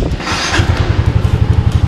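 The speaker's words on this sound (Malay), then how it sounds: "motor ni engine senyap semua tak ada masalah kita try start dulu" A 2019 Scomadi scooter engine catches and settles into a steady, close, loud putter with a regular pulsing beat; no one talks over it.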